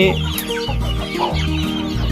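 Chickens cluck steadily in a dense, close flock during morning feeding, with overlapping calls and a rooster-like voice among them.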